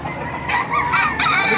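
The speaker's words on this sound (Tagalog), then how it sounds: "Pakita ko sa inyo mga manok dito sa Baliwag mga master." Roosters crow in a short burst with hens clucking around them, loud and close, with no talking.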